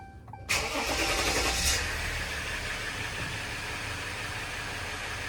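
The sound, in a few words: Ram EcoDiesel truck engine starting after fuel filter replacement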